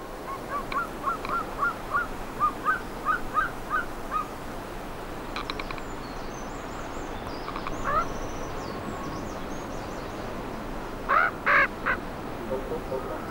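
Ravens call over a carcass where black vultures feed, giving repeated short croaking calls in bursts, a few louder and closer, over a low, steady outdoor background.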